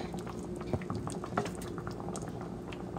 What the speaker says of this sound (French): on va laisser mijoter tout doucement